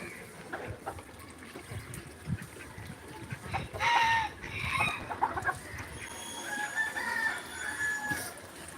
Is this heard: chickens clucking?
yes